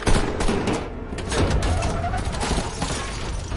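A robber in a film opens fire at a man in loud, dense bursts of gunshots that crack repeatedly over a noisy, chaotic background.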